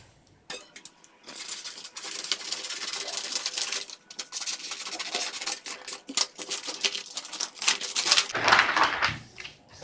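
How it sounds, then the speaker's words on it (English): Scissors cut out a blouse pattern, snipping and rustling of paper or fabric in irregular bursts, close and fairly loud, with a few clinks near the end. "So I'll cut it out now."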